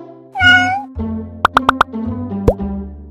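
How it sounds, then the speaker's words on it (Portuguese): A cartoon cat in a children's Portuguese lesson lets out one clear, bright meow near the start, followed by a quick run of four popping plops and a final boing-like tone over light background music. "O gato Chester vai nos ajudar"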